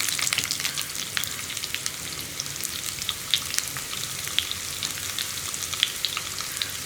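Round-cut onion slices frying in hot oil with fenugreek for sambar, a steady bright sizzle with crackling pops throughout, close and even, no talking.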